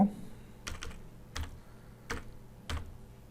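A few short bursts of typing on a computer keyboard, close and fairly quiet, with gaps between the clusters of key presses.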